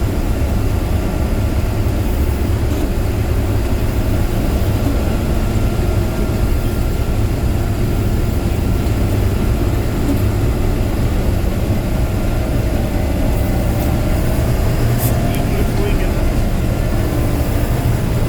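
A combine harvester's tired old engine drones steadily while harvesting on a farm, a loud, continuous low rumble with a faint mechanical rattle on top and no talking.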